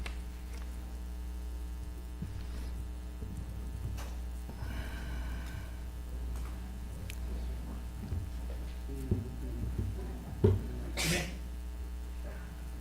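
A single sharp sneeze from a person at a county commission meeting, heard over a steady low room hum with faint murmuring.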